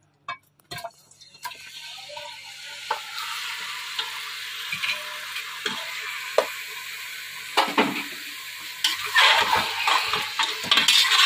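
Beef pieces frying in about a cup of hot oil inside a pressure cooker, a steady close sizzle with occasional stirring clatter, growing louder toward the end, no talking.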